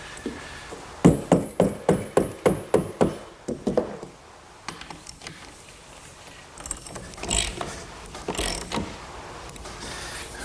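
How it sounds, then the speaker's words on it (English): A socket wrench fastens a bolt into a pilot hole on a wooden picnic table build, giving a quick run of about nine sharp ratcheting clicks up close, followed by softer handling knocks and shuffling. "Now I'll just use a socket and fasten it down."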